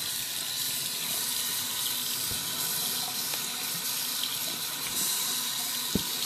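Tap water runs steadily into a sink while a MaxiMist Evolution TNT spray tan gun is rinsed under it, a constant close hiss broken by a few small clunks and splashes, with no talking.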